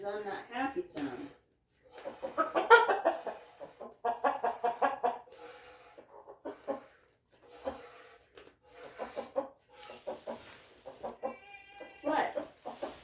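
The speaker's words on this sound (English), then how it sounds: "What are you doing, chickens?" Backyard chickens clucking close by in bursts, one giving a drawn-out, unhappy-sounding call, with someone talking between the calls.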